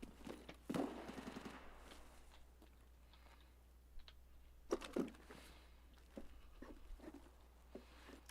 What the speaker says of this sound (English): Certainly some shooting going on.